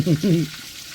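Garlic and curry leaves hit hot oil while dal is being cooked, with two quick bursts of sizzling and stirring up close, then a quieter crackle.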